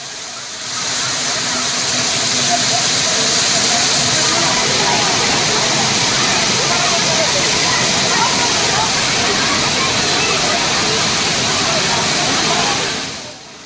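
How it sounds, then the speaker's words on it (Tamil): A steady, loud roar of water at Thirparappu falls, where only a little water is coming down, runs unbroken for about twelve seconds and fades at both ends, with voices likely mixed in. "வெயிலின் தாக்கத்திலிருந்து தப்பிக்க திருப்பரப்பு அருவியில் குவியும் சுற்றுலாப் பயணிகள்"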